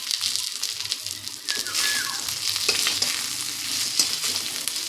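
Fried eggplant and ground neem leaves get stirred in a hot pan, a close sizzling hiss broken by scraping spatula strokes, with a faint pigeon cooing in the background and no talk.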